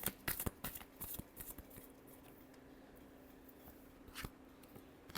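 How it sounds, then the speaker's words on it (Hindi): Tarot cards shuffle close up in quick crisp riffles and taps, busiest at the start and again near the end, with a quieter steady rustle in between. "last shuffle"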